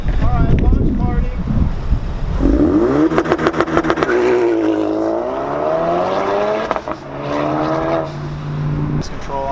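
A Ford Focus RS with a catback exhaust pops and crackles, then launches with a loud rising engine roar that climbs through the revs and shifts, heard from inside with some wind buffeting.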